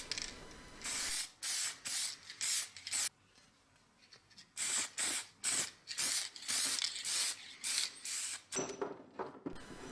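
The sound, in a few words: spraying clear coat lacquer on restored axe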